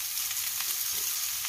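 Onions sautéing in a pan at home, giving a steady, even sizzle with faint stirring scrapes throughout, fairly quiet and close, with no talking.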